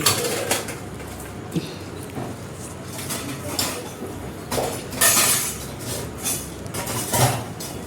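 Dishes, pots and utensils are washed by hand outdoors in a village, with scattered clinks and scrapes of metal vessels. Birds coo nearby and the scene is otherwise quiet.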